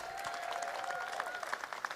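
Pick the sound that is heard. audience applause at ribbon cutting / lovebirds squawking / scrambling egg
audience applause at ribbon cutting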